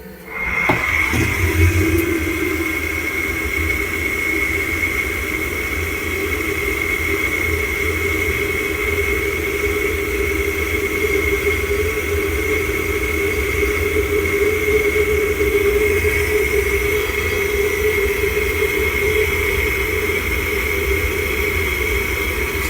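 An infantry fighting vehicle (BMP) engine rumbles steadily after a brief start-up burst from a torch-started preheater, running continuously at a constant drone with a persistent tonal hum throughout.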